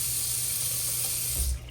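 A hotel bathroom sink faucet in a Courtyard King Kamehameha's room runs at full pressure, a steady close hiss of water that cuts off abruptly near the end.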